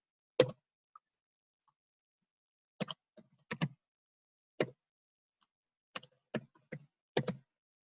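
Scattered keystrokes on a computer keyboard as registration details are entered, sharp isolated clicks in small irregular bursts separated by silent pauses, close and clear with no talking.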